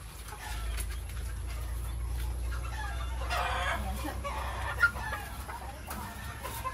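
A white Kelso hen clucks in soft, irregular bursts close by on a backyard poultry farm, with a low steady hum underneath and a faint rooster crow among the clucks.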